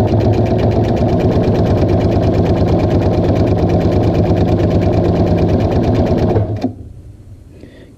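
Sewing machine stitching fabric while sewing a toiletry bag with zippers and piping, a loud, steady, close whir that stops abruptly near the end, leaving quiet.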